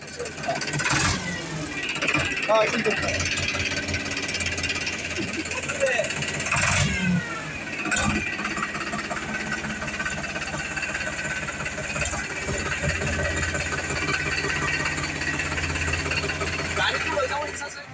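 A 55 horsepower tractor engine runs at a steady chugging idle with a few sharper knocks and clanks, while people talk over it close by.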